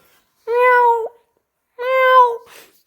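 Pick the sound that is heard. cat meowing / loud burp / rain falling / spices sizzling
cat meowing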